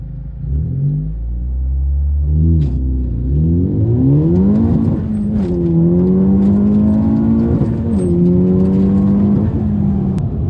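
A Honda Civic Type R does a hard 0 to 60 launch with stability assist and traction control switched off. The engine roars loud and close, its pitch climbing through several gears with distinct dips at each shift.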